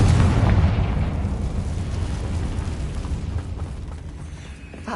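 Confringo spell explosion in the video game Hogwarts Legacy, a loud deep boom that bursts at the start and rolls off into a long rumbling decay.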